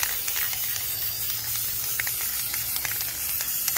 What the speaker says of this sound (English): Definitely spray in layers and don't get too close to prevent the overspray blobs.